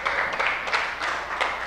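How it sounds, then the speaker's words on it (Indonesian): A class applauding after counting together: a short burst of scattered hand clapping from a group in a room, with several uneven peaks, fairly close and without talk. "Tepuk tangan semuanya."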